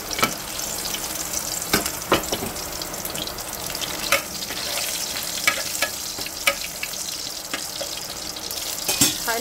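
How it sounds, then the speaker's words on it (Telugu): Mustard seeds, urad dal and curry leaves sizzling and crackling in hot oil for Andhra-style bhindi onion curry, a steady close frying hiss with scattered sharp pops and a spoon stirring now and then. "చూసారు కదండి పోపు వేగుతుంది"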